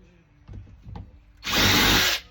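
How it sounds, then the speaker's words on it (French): A power drill drives a screw during a van conversion, a loud steady whirring burst lasting under a second, after a few softer knocks and handling sounds. "Ensuite, on prend la drill"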